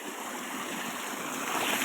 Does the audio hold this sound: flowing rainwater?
yes